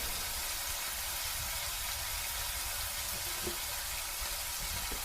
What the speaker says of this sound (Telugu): ఉప్పు వేస్తే త్వరగా వేగిపోతాయి ఉల్లిపాయలు